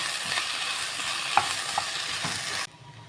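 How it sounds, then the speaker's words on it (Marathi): Onions fry in a pan for a Goan chilli fry, giving a steady, close sizzle with light stirring scrapes and a couple of small clinks before it drops away near the end. "हांव कांद्या बारो घाता आनी तें बरो भाजून घेता बोटाटो"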